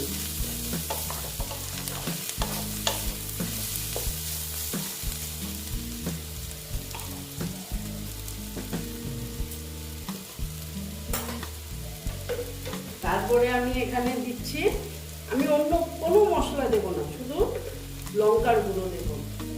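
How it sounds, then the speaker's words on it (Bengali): Dried loitta fish (shutki) frying in a pan for a bhorta, with a steady sizzle under repeated stirring and scraping, and some louder clattering toward the end, all close up with no voices. "যে ড্রাই ফিশটা অ্যাড করে দিলাম করে আবার এটার সঙ্গেই আবার আমি ভেজে নিচ্ছি"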